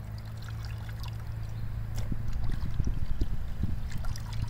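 Cleaned goat offal is rinsed under running water, a steady close pour and trickle with splashing that thickens partway through, under a low background hum.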